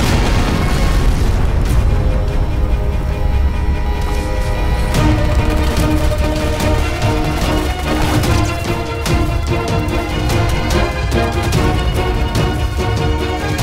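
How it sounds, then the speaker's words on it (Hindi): Gunfire in a Hindi film scene, packed into a dense, continuous loud soundtrack of booms and bursts that never lets up, with no clear gaps between shots. "फायरिंग इसी तरफ से।"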